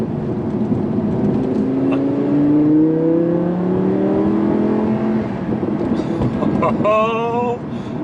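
2016 Audi R8 V10 Plus supercar driven through heavy rain, its V10 engine loudly revving and blipping on downshifts with rising and falling pitch sweeps, heard from inside the cabin over road and rain noise.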